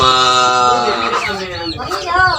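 A three-month-old fighting rooster, skittish and hard to handle, gives a few close, loud clucking calls, with someone talking over them.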